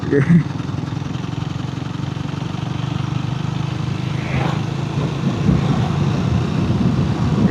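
Triumph Tracker 400 motorcycle lugging at low revs in sixth gear around 40–50 mph, a steady low engine drone under heavy wind rush throughout, with no talk.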